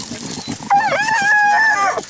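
A hunting beagle bays while chasing a rabbit in the field: one loud, drawn-out howl rising and wavering for over a second, close by, with brief outdoor chatter before it.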